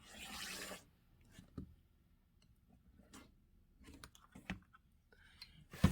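Quilt fabric being trimmed, with a short rasping burst followed by scattered quiet clicks and snips close by, and a final sharp handling noise, with no talking.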